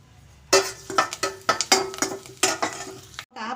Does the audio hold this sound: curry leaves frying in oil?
yes